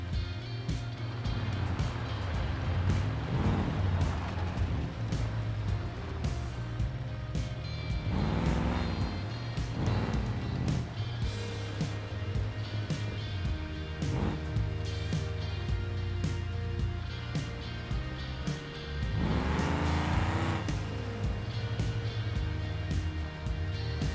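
A car in the BeamNG driving game motors along toward the track, its engine droning steadily with rising and falling revs and occasional shifts, continuous and fairly prominent with no talking.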